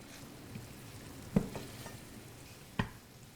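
Apples and sugar stirred in a pan, with a low steady sizzle and two distinct scraping knocks of the spoon against the pan, no talking.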